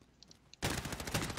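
Gunfire in a Modern Warfare match erupts after a brief quiet, a loud, rapid burst of overlapping shots close by that continues without pause.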